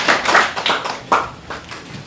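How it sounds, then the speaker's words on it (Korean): Light, scattered clapping from a small audience at a research forum welcoming a presenter. A handful of distinct, close hand claps come irregularly over a couple of seconds. "박수로 맞아주시겠습니다"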